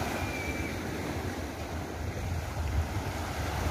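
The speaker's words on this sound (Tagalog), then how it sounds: "Mahina na yung alon" Steady roar of ocean waves and surf at a rocky beach resort after a typhoon, with wind buffeting the microphone, continuous and fairly loud, no voices.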